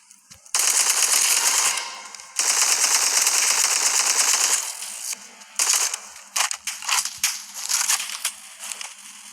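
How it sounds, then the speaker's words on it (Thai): Rapid automatic gunfire in a Roblox shooting game, long loud bursts of crackling shots followed by shorter choppy volleys near the end. "ใครมันยิงวะ"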